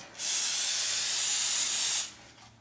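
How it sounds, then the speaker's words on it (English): A single continuous cooking spray hiss onto a loaf pan lasting about two seconds, close and loud, then stopping. "I gotta spray one more pan"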